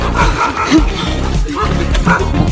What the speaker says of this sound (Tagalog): Patay na ang daming aso.